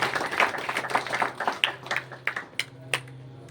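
An audience at a village panchayat election rally claps to welcome a speaker, a short, moderately quiet patter of hands that thins into a few scattered claps over a low hum.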